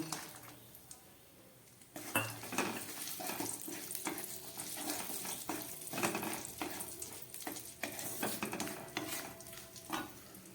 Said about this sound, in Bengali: এই তেলের মধ্যে আমি কিছুটা কাজু আর কিশমিশ ভেজে নেব।